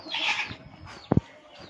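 A chicken being fed gives a couple of short, close clucks after a brief burst of background noise.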